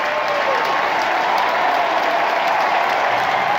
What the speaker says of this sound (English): Great applause here in the stadium from the Irish fans.